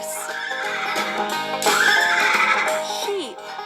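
In a kids' farm animal stacking game, a cartoon horse lets out a loud, drawn-out whinny that falls away in pitch at the end, with cheerful game music playing beneath it.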